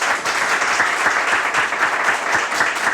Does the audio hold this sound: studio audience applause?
yes